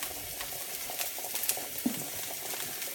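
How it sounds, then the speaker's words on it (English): Carrots fry in a hot pan under a steady sizzle while being stirred, with scattered scraping taps and a soft knock near the end, close by and with no speech. "Give them a stir,"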